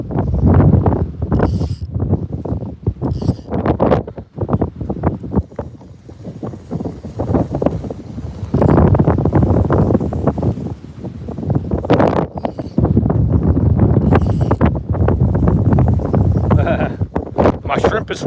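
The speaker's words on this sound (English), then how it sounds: "Feel that pier shaking now from the wind." Strong wind buffets a fishing pier on Copano Bay, Texas, in loud, uneven gusts that batter the microphone. Choppy water sounds underneath, and bursts of talk are heard between the blasts.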